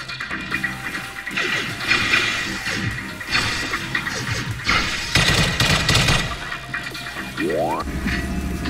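Gunfire and crashing effects from a shooting video game played on a 12.9-inch third-generation iPad Pro, with dense overlapping bursts, impacts and a rising whoosh, loud and continuous throughout.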